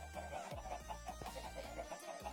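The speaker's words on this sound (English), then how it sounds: "there's the chickens." Chickens cluck faintly in a coop, soft repeated clucks over a low hum and background noise, distant and quiet.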